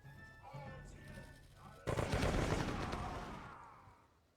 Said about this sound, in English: The cannons still shooting.